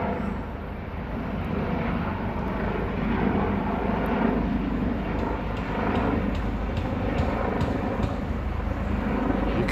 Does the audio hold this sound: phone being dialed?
no